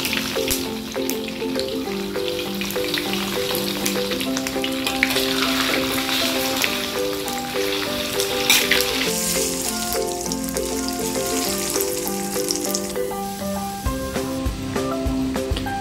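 Beef frying in hot oil for dendeng balado, a loud sustained crackling sizzle with dense popping spatter that swells and eases over several seconds, close up and with no voices.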